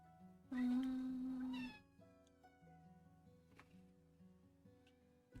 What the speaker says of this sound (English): Sorry if you guys hear some kitty noises.